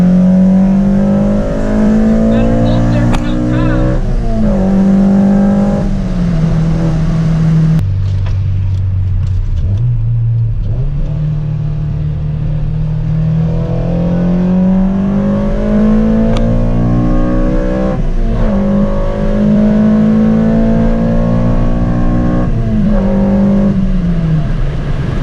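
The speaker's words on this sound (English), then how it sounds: "This thing shifts way faster, and it holds power throughout the power band, no matter what gear you're in or what RPM you're at." Honda Civic running a Hondata Flashpro tune accelerating hard through the gears, its engine note climbing and dropping at each quick shift, loud and steady from inside the car.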